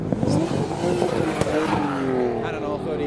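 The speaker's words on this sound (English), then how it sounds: "And an R33 providing more revolutions" Nissan Skyline R33 GT-R turbocharged six-cylinder engine revving hard at a busy Japanese car show, rising and falling revs amid other cars and crowd chatter, with people talking over it.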